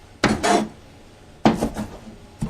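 Rehydrated rice vermicelli being cut for Vietnamese crab and shrimp spring rolls, three close knife strokes on a board, each a short scraping chop separated by pauses.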